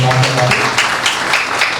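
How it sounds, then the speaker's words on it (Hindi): An audience claps at a Hindi book launch for a translated literary work, producing a burst of scattered applause with a voice talking over it. "एक बार जोरदार ताली बजाना"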